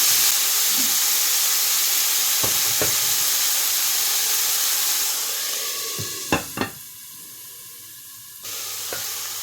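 Peppers dropped into hot oil in a pan for menemen, a loud steady sizzle with a few sharp clinks of utensils against the pan partway through.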